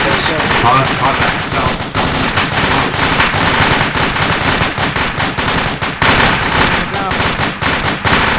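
Sustained heavy gunfire in a firefight, loud and continuous with rapid automatic bursts and overlapping shots throughout, close and dense with little pause.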